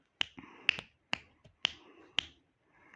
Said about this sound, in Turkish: Parmak şıklatıyorum